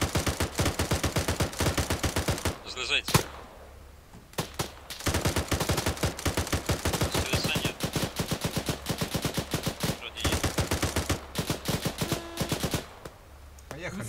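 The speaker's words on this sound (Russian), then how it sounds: "Стрельба?" Rapid, sustained bursts of automatic gunfire in the video game Arma 3 rattle in long runs with brief pauses, while a voice speaks briefly in Russian between them.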